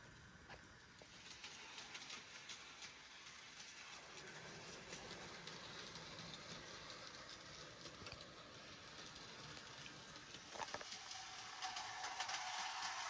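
A small Kato N scale model train runs steadily along its track, a soft continuous whir with faint rhythmic clicking, fairly quiet and without voices.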